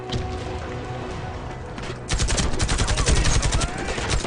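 Gunfire in the online shooter Warface 2: a steady ambient rumble, then a sudden loud burst of rapid automatic shots in quick succession, close and dominant.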